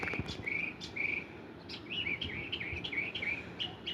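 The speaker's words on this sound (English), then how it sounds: "The birds are talking." Birds chirp outdoors in short, bright bursts, several calls scattered across the clip over a soft background hiss.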